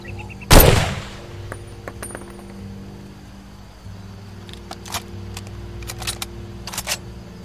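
A single loud gunshot from a weapon in the video game Far Cry 2 rings out near the start, followed by a low engine-like hum and faint clicks as the scene carries on.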